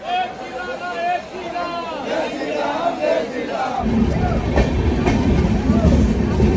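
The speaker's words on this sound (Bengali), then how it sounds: "আর এই হচ্ছে নতুন অযোধ্যা ধাম রেলওয়ে স্টেশন" New Ayodhya Dham railway station, a busy platform ambience with a low rumble of rail traffic building partway through, layered over crowd chatter and nearby voices.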